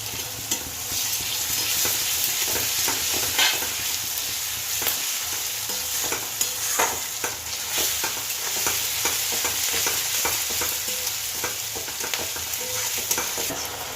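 Garlic paste fries in a pan for egg curry, a close, continuous sizzle broken by frequent scraping stirs and small spattering pops, without any talking.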